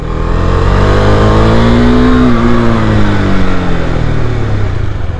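A KTM Adventure 390 motorcycle on a test ride revs loudly and steadily up close, its engine note climbing and then easing back, with no talking over it.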